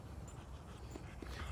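A dog panting steadily and close by as it walks slowly, with quick, breathy puffs and no voices over it.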